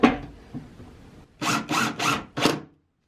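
A screw is driven into a wooden playhouse door. After a faint rubbing start, four short, even grinding bursts follow in quick succession, close and moderately loud.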